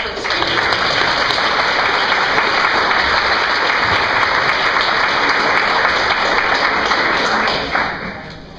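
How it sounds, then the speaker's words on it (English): The crowd at a Des Moines Social Club talk night, held in a former fire station, gives loud, sustained applause for the first speaker, a dense wash of clapping that fades out near the end. "So let's give Greg a big round of applause as our first speaker."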